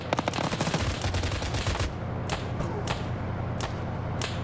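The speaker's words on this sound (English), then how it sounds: "Ooh, good return fire." Automatic weapons fire in Arma 3 during a Sierra Leone campaign firefight: a rapid, close burst of shots for about two seconds, then sparser single cracks spaced out, with no talk.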